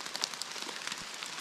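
Steady rain patters across the surface of a damp, moss-covered mountain trail on Mount Latimojong, with a dense hiss and scattered nearby drops and no speech.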